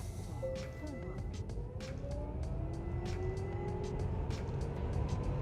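A Tesla Model S 75D pulls away from a standstill on a track, its electric motor whine climbing steadily in pitch over a low road rumble.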